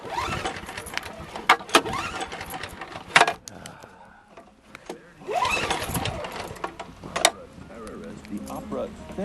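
A snowblower engine running on old gas is cranked over and over, sputtering, with mechanical clatter and bursts of engine noise near the microphone as it struggles to start, while a voice speaks briefly.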